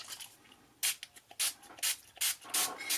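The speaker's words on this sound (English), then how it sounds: "This time I'm going to try some Delusions ink spray." Delusions ink spray mists onto paper in a series of short, breathy hissing bursts, each one close and sharp, separated by quiet pauses.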